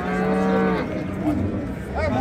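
At a Friday cattle market in Samarkand's Pastdargom district, a cow with its calf moos loudly and close at hand. One long low call gives way to crowd noise, and a shorter moo follows near the end.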